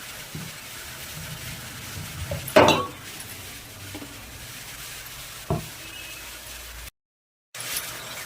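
A spoon stirs khichuri with ghee and green chillies in a pot, giving soft scraping and a gentle sizzle, with one sharp clink of metal on the pot and a few lighter taps. It is close and fairly quiet, with no talk.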